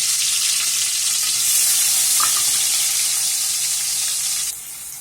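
Garlic paste and ginger-chili paste sizzle steadily in a pan for a bottle gourd curry, a constant close hiss that drops a little in level near the end, with no voices.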